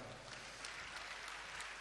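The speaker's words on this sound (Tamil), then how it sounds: "கைதட்டுங்க பார்க்கலாம்" A Sunday service congregation claps their hands together, a faint, even patter of many hands filling the church hall without pause.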